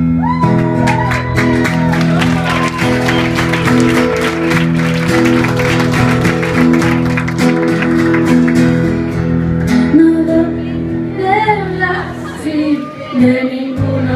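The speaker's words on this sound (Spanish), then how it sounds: "ha sido por la emoción del aplauso" Loud live crowd applause and cheering with whoops at a concert at the Casino de Valencia, dense clapping running throughout over lingering sustained musical tones.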